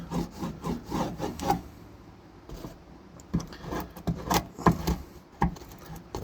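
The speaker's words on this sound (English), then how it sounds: "Rub around your edges." A screwdriver or gloved hand rubs along freshly cut sheet-metal edges of a T56 Magnum transmission tunnel, making close, rhythmic scraping and rasping strokes in uneven bursts with a brief lull midway.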